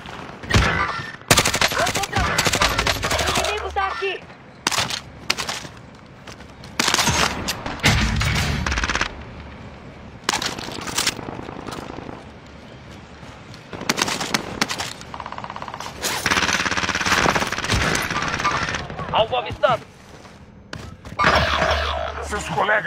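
Bursts of automatic gunfire and single shots in Call of Duty: Warzone, loud and repeated in rapid clusters across the match, with thumps and shattering mixed in and players talking over the shooting.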